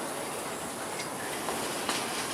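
Sugar cane locomotive rolling over a rail junction switch on a plantation line, a faint continuous rumble with a few soft clicks and metallic taps from the wheels.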